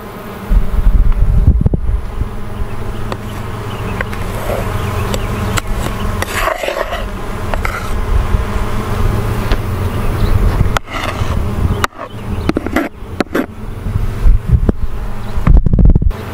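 Bees drone in a dense, steady buzz at close range throughout a beehive inspection, with no voices.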